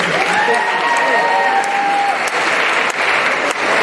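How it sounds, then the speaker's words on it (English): A pageant audience at the Miss NOC Tonkawa and Enid Pageant applauds the young contestants after the talent competition, loud sustained clapping with some cheering, while tonal voices or music briefly ring out over it early on. "Please give a round of applause to all the young ladies who saw tonight."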